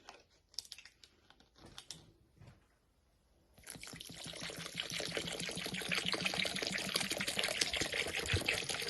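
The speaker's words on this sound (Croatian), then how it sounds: "U šećer od kilogram i 800 g dodajemo litar i 800 ml destilovane vode." Distilled water is poured into sugar while mixing syrup for an oxalic acid bee treatment. Scattered light clicks and taps come first, then a loud, continuous splashing pour takes over and keeps building.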